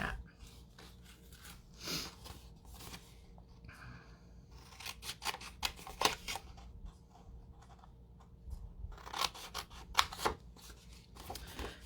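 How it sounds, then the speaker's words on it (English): Scissors snip off the corners of a craft piece in a series of close, crisp cuts at irregular intervals, some in quick clusters, over a quiet background. "And so you just go all the way around and cut off those corners like that."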